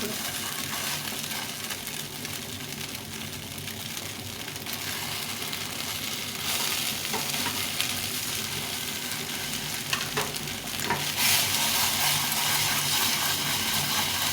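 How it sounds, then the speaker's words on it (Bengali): Flattened rice (chire) frying in a pan for a breakfast dish gives a steady, loud, close sizzle with stirring that continues throughout and brightens toward the end. "বেশ কিছুক্ষণ ধরে ভাজতে হবে এটাকে"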